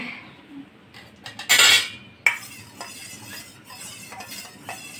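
Cooked mung dal goes into a pan with a burst of splashing sizzle and a metal clink, then a spoon stirs against the pot over a quiet background.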